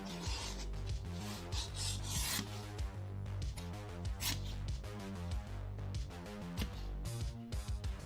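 Leather pieces are sanded by hand in a leathercraft workshop, producing a close, steady rasping rub with quick repeated strokes throughout.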